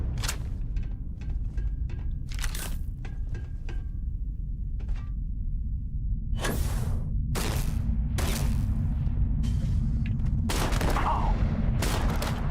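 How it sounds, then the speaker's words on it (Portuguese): Sharp gunshots go off in the video game Starfield, including shotgun blasts, as a burst of close, loud reports comes in irregular clusters, some in rapid succession, with a low background hum between them. "Caramba, errei o tiro de escopeta."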